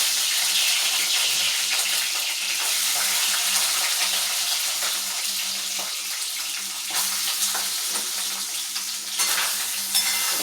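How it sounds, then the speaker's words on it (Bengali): Boiled, squeezed soybeans fry in a pan with a steady, loud hissing sizzle throughout, occasional stirring scrapes, and no voices. "আমি কি সুন্দর করে সয়াবিনগুলোকে ভাজছি"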